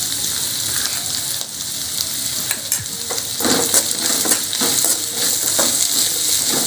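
Capsicum and potato pieces sautéed with salt in a hot pan, a steady close sizzle and frying hiss running throughout, with intermittent scraping stir strokes and no talk.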